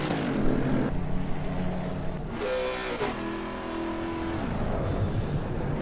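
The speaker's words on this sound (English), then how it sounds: "we hear the sound of the Lexus start his engine" A Lexus GT3 race car engine starting before a formation lap at Donington Park, a loud close rumble with a sharp rising rev and then a settling idle, steady and harsh, with no talk over it.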